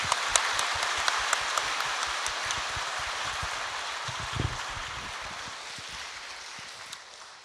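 Congregation applauding a pastor at a church retreat, a dense steady patter of many hands clapping, moderately distant, fading gradually toward the end.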